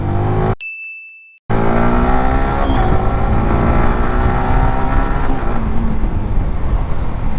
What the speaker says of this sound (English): today I'll be test riding the R15 V4